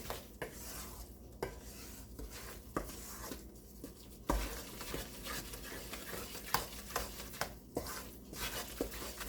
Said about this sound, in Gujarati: આ રીતે હલાવતા રહીશું આપણે